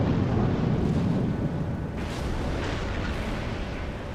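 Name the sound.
warship cannon fire in World of Warships video game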